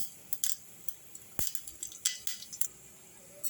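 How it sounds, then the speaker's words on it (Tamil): Mustard seeds crackling as they temper in hot oil for a quick kuzhambu: scattered sharp pops and snaps at irregular intervals, close and fairly quiet, with no talking. "எண்ணெய் காஞ்சிருச்சு கடுகு தளிக்கிறேன்"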